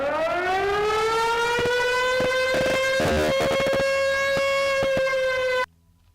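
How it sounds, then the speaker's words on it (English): A civil-defense style siren sound effect plays on a game stream, one loud sustained wail rising slightly in pitch over several seconds and stopping abruptly, with a few clicks over it. "I honestly forgot I had the siren sound effect."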